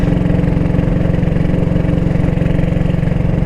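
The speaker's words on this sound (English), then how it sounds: "the exhaust between the 31 Ariel and this one's got, you can probably hear it through the mic here, it's got quite the bark to it" A Norton Model 20 motorcycle engine idles loudly and close, its exhaust giving a steady, rapid, throbbing bark with an even beat throughout and no voices over it.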